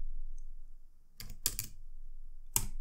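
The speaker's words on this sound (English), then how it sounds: "And then we type 10" A few quick clicks of computer keyboard keys, tapped in two short bursts and a final single stroke, crisp and close in an otherwise quiet room.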